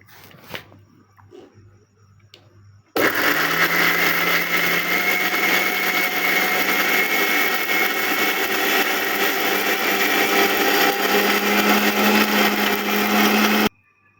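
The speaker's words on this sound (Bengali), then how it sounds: "এখন ব্লেন্ডার জারে দিয়ে একটু ব্লেন্ড করে নিই।" An electric blender grinds soaked dried chillies with water in its jar, starting abruptly after a short quiet moment and running as a loud, steady whir until it cuts off near the end.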